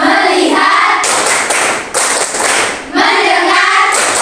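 A class of students performs the 'tepuk fokus' clapping chant, with voices chanting together around a run of quick, rhythmic claps, the whole group loud and close in a room.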